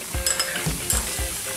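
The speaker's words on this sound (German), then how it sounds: "Unsere Pfanne ist heiß. Als erstes machen wir unser Speck." Bacon frying in a hot pan with no added fat for spaghetti carbonara, a steady close sizzle with a few soft stirring knocks and scrapes throughout, no talking.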